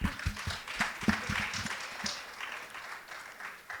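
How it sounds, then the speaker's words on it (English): A modest audience at an International Women's Day celebration claps in a short, fairly faint patter that thins out after a couple of seconds, with some scattered thumps early on. "An applause for this."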